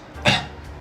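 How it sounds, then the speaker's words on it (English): A single short, raspy cough from someone recovering from throat surgery, close and fairly loud, with no talking around it. "Oh, I'm not allowed to cough."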